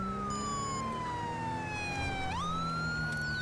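A wailing police car siren in GTA V sweeps steadily, then jumps to a higher pitched tone, loud and continuous over a low engine rumble with no talk.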